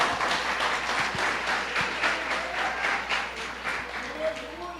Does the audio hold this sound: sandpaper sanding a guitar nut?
no